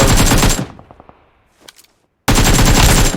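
Bursts of automatic gunfire in the battle game PUBG Mobile, a loud rapid volley, a pause with a few faint distant shots, then another loud sustained burst.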